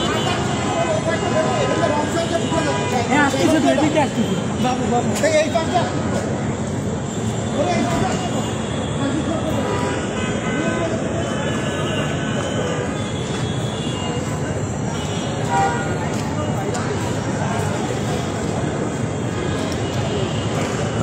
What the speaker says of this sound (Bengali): দর্শক, ফার্মগেট মেট্রো স্টেশন থেকে এটাই ছিল সর্বশেষ।